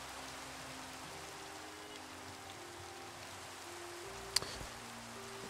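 Steady rain patters down in Minecraft, a soft even hiss throughout with a low hum beneath and one brief click near the end.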